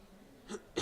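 Two short, dry coughs close by, one after the other, in an otherwise quiet room.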